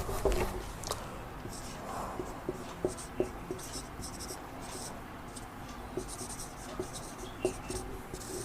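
Chalk or marker scratches across a classroom board in short irregular strokes with taps between them, close and moderately loud, over faint room noise with some soft speech.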